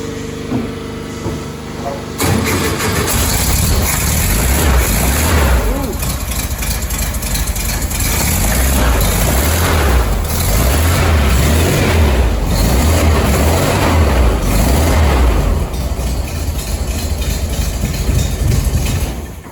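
A race car engine idles low after overheating, with a low, uneven rumble and pulsing throb, loud and close, running steadily after a brief quieter moment at the start.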